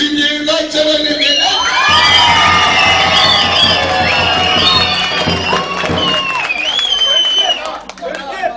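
A wedding crowd claps and cheers loudly, with shouts and whoops from many voices, including children, swelling together over several seconds before tapering off near the end.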